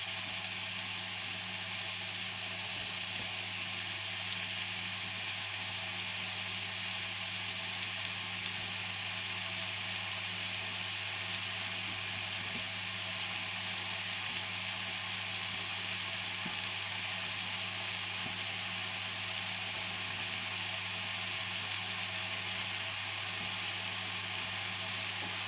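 Bacon lardons and onions frying in a pan, a steady, even sizzle with soft crackle that continues unbroken for a long stretch, close and moderately loud, with no talking.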